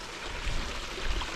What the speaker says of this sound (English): Goes over this this little brook or creek, whatever you want to call it. From the spring thaw, it's flowing pretty good at the moment.